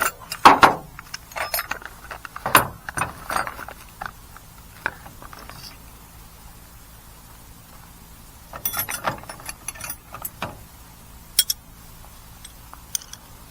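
A wrench being handled during a muffler install on a 4WD Daytona gives off scattered metallic clicks and ratcheting clatter in short bursts, separated by quiet pauses, close by.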